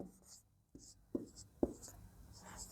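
A pen writes on paper during a math lesson, making soft scratchy strokes in short separated bursts with a few light taps, close and quiet.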